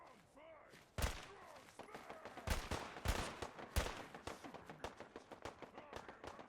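Gunfire in the video game Fallout 4: several sharp, loud shots at uneven intervals, with talk and laughter around them.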